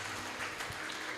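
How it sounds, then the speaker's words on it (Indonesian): A short burst of applause from students at a school self-development activity, a brief dense patter of many hands heard at a moderate distance. "Oke, tepuk tangan dulu, luar biasa."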